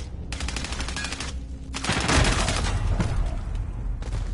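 Rapid bursts of gunfire from double pistols in a video game crackle loudly and continuously, with a brief lull before a denser, heavier volley near the end.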